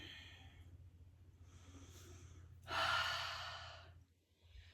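Slow breathing during a held yoga pose: soft, close inhales and exhales, then one louder, longer breath out of about a second, with no talking.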